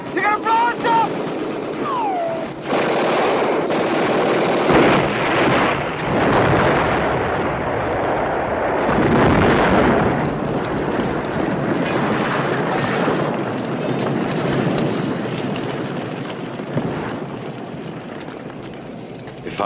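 Film battle scene with heavy explosions and bursts of gunfire, loud rumbling blasts and roaring noise filling the whole stretch, with shouted voices at the start.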